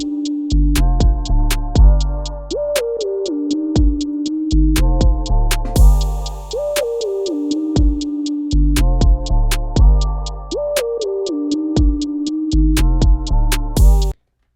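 A hip-hop beat hook plays loud and steady, with a punchy kick and snare under a rapid double-time hi-hat, crash cymbals hitting at section starts, a sustained synth pad and a bright synth lead melody repeating across the bars.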